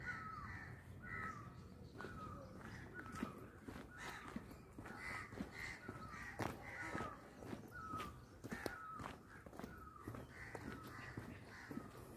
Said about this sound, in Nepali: ल सुन्नुहोस् न्याउली चरा।